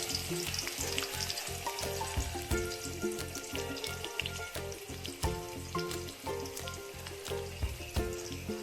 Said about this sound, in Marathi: मी कांदा तेलात मी कांदा टाकणार आहे आणि तो परतून घ्यायचा आहे